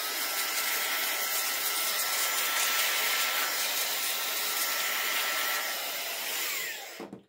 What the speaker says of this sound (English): I'm just going to do a quick once-over with the air duster in the laptop once again.